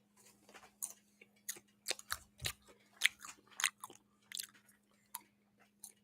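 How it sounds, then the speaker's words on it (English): Close crunchy bites and chewing of popcorn, recorded ASMR-style: a string of sharp, irregular crackles and munches, loud and near, with no talking. "My popcorn. Here we go, the bite."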